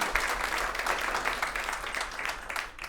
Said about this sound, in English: They really do deserve that round of applause